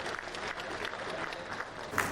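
Renewed clapping from an audience at a BNI Noida anniversary meeting, a full steady patter of many hands at moderate level, with a brief sharper accent near the end and no speech.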